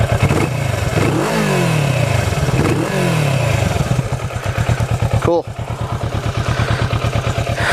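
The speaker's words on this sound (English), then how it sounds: "let's hear how this exhaust sounds." A 2015 Kawasaki Vulcan S motorcycle exhaust, heard up close from behind the bike, revs in several rising and falling sweeps, then settles into a loud, steady, pulsing idle; a voice speaks briefly.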